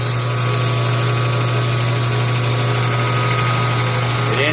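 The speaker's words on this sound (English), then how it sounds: "showing the proper operation of grinding the blade. This is a 10-inch wheel." A knife grinder with a 10-inch wheel grinds an untreated steel blade, giving a loud, constant motor hum and grinding roar that never lets up, close and with no talking.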